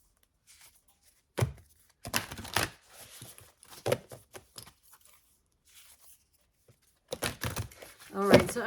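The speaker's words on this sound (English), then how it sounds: "I'm going to shuffle 2 more times" Tarot cards are shuffled by hand in several short riffling bursts separated by pauses, close and fairly soft, with a faint scrape at the end.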